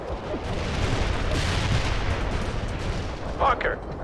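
Artillery bombardment during a Soviet assault on a bridge in a war video game, a steady rumbling roar of distant heavy fire with scattered thuds and a brief sharper crack near the end, with no talk.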